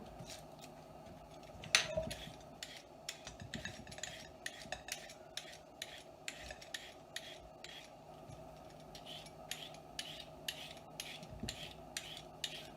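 Quick scraping strokes of a hand vegetable peeler stripping carrots, a steady run of short rasping swipes repeating about twice a second, close and fairly quiet, with one louder clack near the start.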